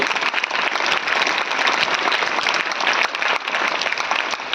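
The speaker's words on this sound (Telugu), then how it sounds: "కాబట్టి ఒక్కసారి క్లాప్స్ కొట్టండి." Schoolchildren applauding at an English-medium school in Andhra Pradesh, a dense, continuous burst of clapping from many small hands, loud and steady for several seconds with no talk over it.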